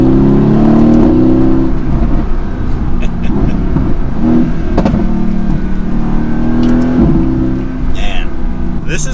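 A 2016 Mercedes-AMG GT S in race mode, its engine and exhaust revving hard with a loud, continuous growling roar that rises and falls through several revs, heard close up with talk underneath.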